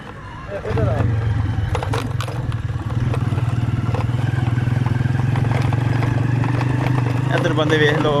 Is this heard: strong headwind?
no